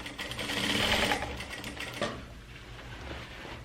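A straight-stitch sewing machine runs steadily, stitching bias binding around a dress neckline, its fast whirring rattle loud and close before easing off into a quieter hum.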